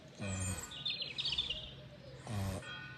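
Wood pigeons coo outdoors by an old manse in Kirmichael, with two soft, faint calls about two seconds apart and a brief higher chirp between them.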